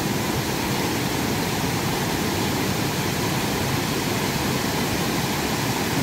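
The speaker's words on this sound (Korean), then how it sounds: "거대한 바위 사이 양쪽에서 내려오는 폭포를 한번 보도록 하겠습니다." Steady, broadband rush of a waterfall pouring down between huge boulders on both sides into a deep plunge pool in a valley, a continuous roar without pause, close and fairly loud.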